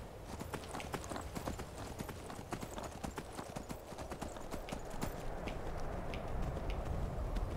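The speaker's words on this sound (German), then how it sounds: "Da ist mein Pferd." Horse galloping in Skyrim: a steady, fairly loud run of rapid hoof clip-clops that continues throughout and grows slightly heavier toward the end, with no talk over it.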